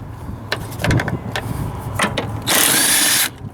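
Power tool backing out the two top coilover bolts on a Honda Civic, a short loud whir close by after some clanking and handling noises.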